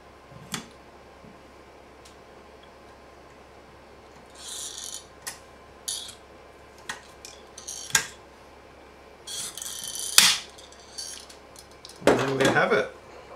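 A hand rivet tool sets a rivet on a monitor bracket. Close, sparse metallic clicks and snaps build to a sharper crunch near the end, with quiet pauses between the bursts.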